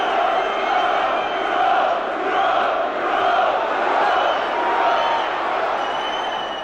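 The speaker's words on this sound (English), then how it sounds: "The big cheer you heard was from the Norwich fans" Norwich City football fans roar and cheer in a packed stadium during a 1991 home match against Manchester United, a loud, sustained crowd swell with no pause across the whole stretch.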